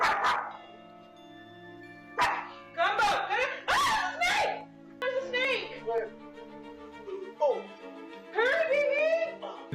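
A dog barks and yelps in short, uneven bursts with whiny, moaning tones in between. The calls are close and fairly loud, separated by brief pauses.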